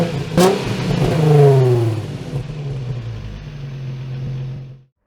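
A 2016 VW Golf SV 1.2 TSI Trendline accelerates close by, its engine note climbing through rising revs, then settling into a steady drone before cutting off abruptly.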